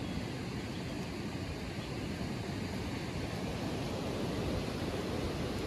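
A flooded river in the Konkan countryside rushes past nearby, a broad, unbroken roar of water that stays loud and even throughout, with no voices.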